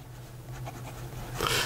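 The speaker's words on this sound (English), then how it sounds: "Here we go with the writing sample for the Lamy Aion. This is a medium steel nib" A Lamy Aion fountain pen with a medium steel nib scratching softly across paper, faint close-up nib strokes over low background hum, growing a little louder at the end.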